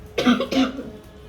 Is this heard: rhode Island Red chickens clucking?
no